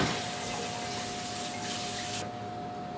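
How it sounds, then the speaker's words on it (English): Tap water runs steadily into a kitchen sink for hand washing, a close, continuous gush that cuts off near the end, with no talking. "And wash your hands, ladies and gentlemen."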